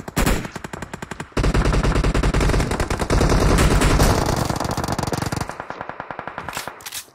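Rapid automatic gunfire rattles in the mobile battle-royale game PUBG Mobile, loud dense bursts with a brief pause early on and sparser shots trailing off at the end.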